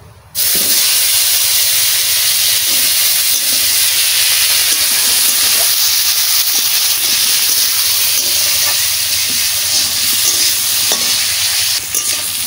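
Mustard paste and raw mango hit a hot pan and burst into a loud, continuous sizzle and hiss that stays strong and close throughout, with faint stirring scrapes underneath.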